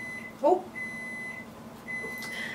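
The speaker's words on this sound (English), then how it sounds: "that's the sound of a fresh magic bag in the microwave" Faint electronic beeps sound from a nearby microwave oven heating a magic bag, over a low hum, with a short exclaimed word early on.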